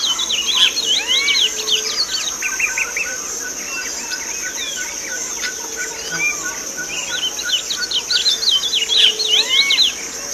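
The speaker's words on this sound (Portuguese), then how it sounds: "Curió." Curió, a Brazilian songbird, sings repeated bursts of bright, varied chirping phrases, loud and near, against a steady background of insect and cricket buzz.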